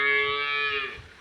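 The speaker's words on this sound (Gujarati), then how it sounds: "આ છે મિત્રો ઢોર, 5 ગાયો છે" A cow lows once on a farmhouse property where five cows are kept, a single drawn-out, fairly loud moo that fades toward the end, with no talking.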